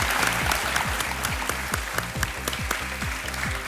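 A studio audience on a television quiz show breaks into sustained applause to welcome a guest, a dense, steady wash of clapping from many hands throughout.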